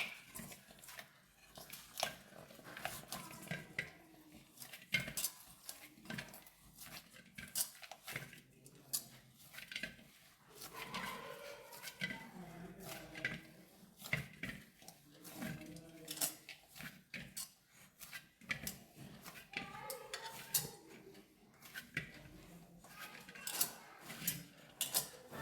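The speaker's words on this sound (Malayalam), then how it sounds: "ഇനി നന്നായി ഒന്ന് കുഴക്കുക." Wheat poori dough with oil being kneaded by hand in a bowl, a faint, irregular run of soft squishing, slapping and light scraping against the bowl that continues steadily without talk.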